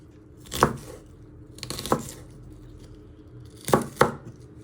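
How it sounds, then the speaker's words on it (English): A knife slicing red onion finely on a board, four firm separate chops spaced irregularly, close and clear with no talk. "you're just doing little fine slices. Give it some force, so it all goes through the knife"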